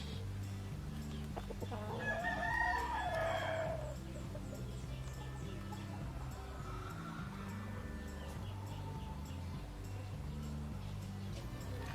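A backyard gamefowl rooster crows once, fairly close and clear, a rising and falling call lasting about two seconds. Quieter clucks and farmyard noise follow over a steady low background hum.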